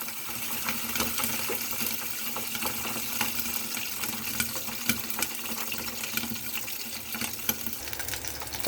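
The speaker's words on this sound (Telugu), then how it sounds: "ఆయిల్లో పచ్చిమిర్చి వేసి వేయించుకుందాం." Green chillies frying in about three spoons of hot oil for gongura pachadi, a steady crackling sizzle with scattered pops, close and continuous without talk.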